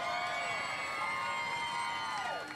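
A large crowd cheers and hollers at an outdoor bass fishing tournament weigh-in on the Sabine River in Texas, a steady, loud wash of voices with a tonal sweep rising over it throughout.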